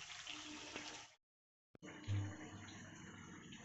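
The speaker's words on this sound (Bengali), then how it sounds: "এবার জলটা দেব" Water is poured from a tap into a pan of Bengali chicken kosha as it cooks, a close splashing rush broken by a brief silent gap before the pouring resumes.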